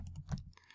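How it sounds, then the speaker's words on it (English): Brief burst of keystrokes on a computer keyboard while entering an email address, a few quick soft clicks heard close and faint. "If I can type."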